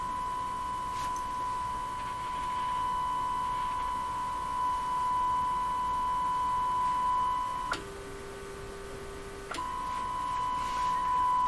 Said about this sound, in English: So this doesn't sound like a pure 1000 hertz tone to me.